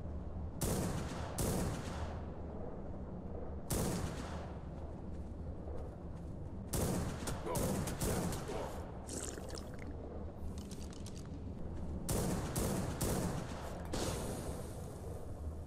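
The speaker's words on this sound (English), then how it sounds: "Now I will fire few bullets, just to poke them a little." Gunfire in the survival video game Ark during a player-versus-player base defense, heard as repeated bursts of loud shots over several seconds against a steady rushing background, with no one talking.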